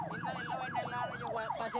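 An ambulance siren wails in a fast, regular up-and-down sweep, loud and close over road noise in traffic on Jalan Urip Sumoharjo in Makassar, South Sulawesi.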